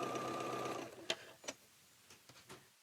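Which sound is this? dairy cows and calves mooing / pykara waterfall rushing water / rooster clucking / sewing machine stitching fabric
sewing machine stitching fabric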